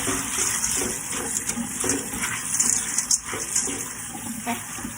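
Tap water runs steadily over red pinto beans being washed for Cuban frijoles colorados, a continuous close gush with small splashing shifts.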